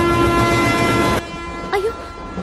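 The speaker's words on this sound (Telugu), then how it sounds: "అయ్యో ట్రైన్ స్టార్ట్ అయింది." A train at a station: sustained horn-like tones and a broad low rumble hold steady, then drop away abruptly, leaving a quieter rolling noise with a short rising whistle-like tone near the end.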